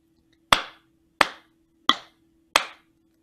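Four crisp single hand claps are spaced evenly in a slow, steady rhythm, each decaying quickly into near silence, with a faint steady hum underneath.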